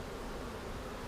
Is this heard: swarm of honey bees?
yes